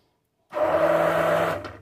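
Immersion blender whirring steadily in a pot of salt cod brandade at the edge of the stove, starting abruptly after a brief silence and running as a continuous close motor drone with a low hum before trailing off.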